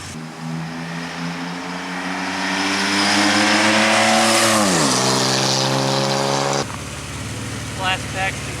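A Pontiac Firebird engine revs hard and rough, its pitch climbing steadily for several seconds, then dropping abruptly and settling into a lower uneven drone, loud and close throughout.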